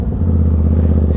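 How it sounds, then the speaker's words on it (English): Aprilia RS660 motorcycle engine running with a steady, loud low rumble and faint clattery pulsing, held at a constant rev close to the microphone with no talking. "Let's get some revs."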